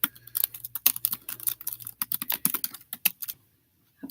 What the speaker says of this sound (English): Let me type to you so you can see this.